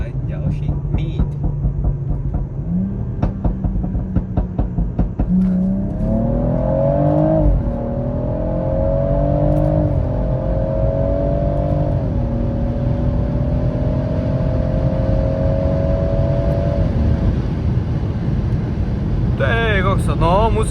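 A 440 hp car accelerates in loud, close interior engine noise. The revs climb in rising sweeps, dip briefly and settle into a steady drone while driving.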